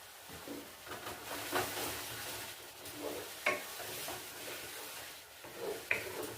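Cabbage and cauliflower curry is stirred in a pan, giving a soft, low sizzle broken by occasional scrapes and knocks of a spatula against the pan, quiet and close.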